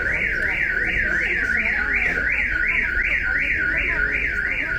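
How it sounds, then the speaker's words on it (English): Loud electronic alarm beeping in a fast, steady warble that repeats throughout, drowning out a busy street scene in Fira, Santorini, with a faint murmur of people underneath. "Sorry for the loud beeping noise in the back,"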